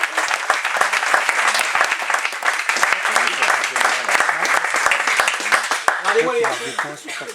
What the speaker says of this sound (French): on applaudit bien fort le podium